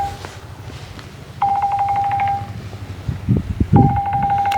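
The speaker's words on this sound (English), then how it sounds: "Let my phone ring." A mobile phone rings in two bursts of a steady electronic tone with harmonics, the first lasting about a second, the second starting near the end, heard beside a horse being mounted, with low rumbling and handling noise underneath.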